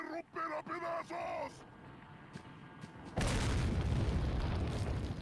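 A grenade detonates in Resident Evil 4, a broad roaring blast that rises suddenly after a stretch of talking and keeps rumbling loudly for the last couple of seconds.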